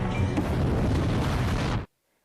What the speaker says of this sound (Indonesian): pipa gas tersebut patah dan membuatnya meledak